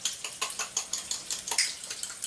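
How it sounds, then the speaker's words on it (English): Sriracha stirred into mayonnaise in a bowl, a utensil clinking and scraping against the side in quick, rhythmic strokes, close and moderately quiet with no voices. "I'm going to give that a stir."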